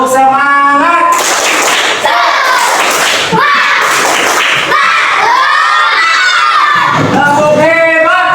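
Classroom children perform a rhythmic clapping chant, loud sharp claps in patterned bursts alternating with shouted, sung voices close by.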